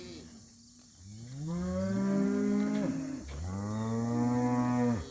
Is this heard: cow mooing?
yes